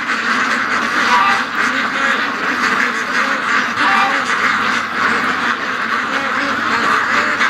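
Ducks at a lake quack steadily and loudly throughout, a dense overlapping chorus close by, with a person talking over them.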